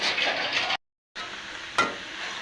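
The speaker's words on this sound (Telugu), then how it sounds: "తాలింపు వేసేస్తున్నాయి ఇక మంచిగా." Steady crackling sizzle of spices in hot oil, briefly cutting out for a moment, then resuming with a sharp clink partway through.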